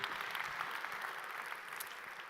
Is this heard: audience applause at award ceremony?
yes